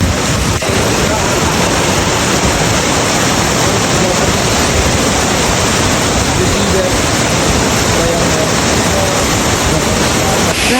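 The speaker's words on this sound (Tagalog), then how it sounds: "ang dami ng tubig na binubuhos nga galing nga dun sa taas" Tumalog Falls pours heavily after a storm, producing a loud, unbroken roar of falling water that fills the whole span evenly with dense hissing noise.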